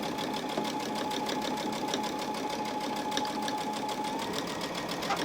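A sewing machine stitches a quarter-inch seam on purse organizer fabric, guided by the presser foot edge, producing a steady close mechanical whir with fast even needle clatter throughout.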